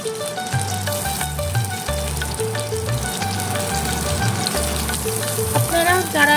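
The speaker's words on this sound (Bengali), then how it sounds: "পটলগুলো হালকা লাল লাল করে আমি ভেজে নেব।" Pointed gourd pieces frying in hot mustard oil give off a continuous, even sizzle, with a steady musical backing running underneath throughout.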